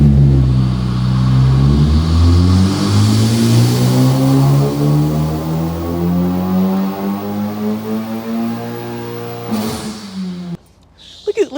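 K20C4-swapped Honda Civic Si on a dyno, its engine revving up through a long steady pull with rising harmonic tones, loud and close, cutting off abruptly near the end.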